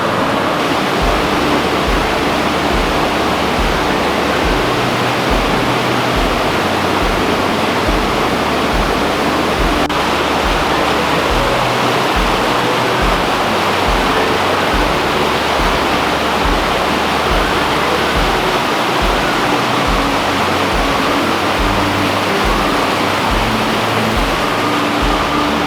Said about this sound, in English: we'll enjoy the river here.